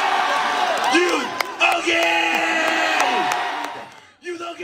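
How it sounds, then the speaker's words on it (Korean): Students in the audience at a high school festival cheer and whoop loudly, a dense crowd roar with shouted calls rising over it before cutting off. "관중석 일부 학생들도 덩달아 환호합니다."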